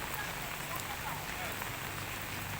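Steady rain falls outdoors in Luang Prabang, Laos, a continuous dense hiss with no break through the whole stretch.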